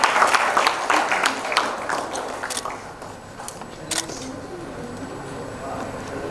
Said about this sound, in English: I request you please join your hands together